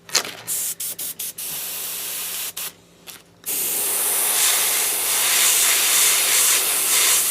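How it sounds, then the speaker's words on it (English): Short bursts of an Avanti airbrush hissing on and off at about 25 psi, then a long continuous spray of compressed air, close and loud, with no talking. "I'm spraying at my normal around 25 psi."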